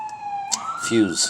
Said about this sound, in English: Oh, sorry, with siren going by, I live by a hospital.